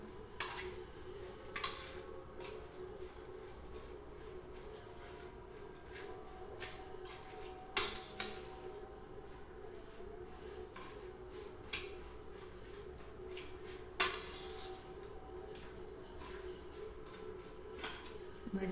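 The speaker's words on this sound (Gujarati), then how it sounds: "આપણે હાથેથી નહીં હલાવીએ ચમચીથી જ હલાવીશું" A spoon stirs a spicy vada mixture in a bowl, making sparse metallic clinks and scrapes at irregular intervals over a quiet, steady background hum.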